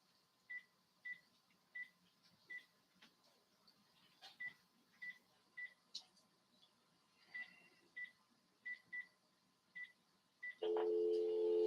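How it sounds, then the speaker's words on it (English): A phone call being dialed to a coal supplier: a steady series of short, evenly spaced key beeps, faint and close, followed by a louder tone as the line starts ringing, with no talk. "Let's make this other phone call."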